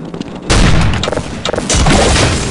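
Grenade blasts in Counter-Strike's zombie escape mod, loud booming bursts that rumble and crackle one after another at close range, with bits of gunfire and clatter between them.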